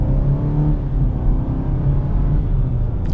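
A turbocharged 2026 Chevy Blazer pulling steadily from inside the cabin, a continuous low engine rumble with rising harmonic tones over road noise, no talking.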